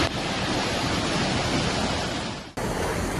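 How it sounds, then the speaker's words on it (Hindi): Floodwater rushing after heavy rain in Nashik, a loud, steady roar of broad noise that cuts out abruptly before resuming. "देखिए किस तरह से पानी का बहाव तेज हो गया।"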